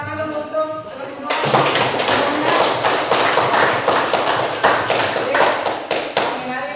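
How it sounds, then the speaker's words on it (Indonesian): After a voice speaks briefly, a classroom or seminar audience bursts into applause for two student presenters, close, loud and lively clapping with distinct hand strikes that carries on evenly to the end. "tepuk tangan dulu untuk yang kedua"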